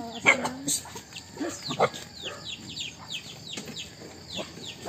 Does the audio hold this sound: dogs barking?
yes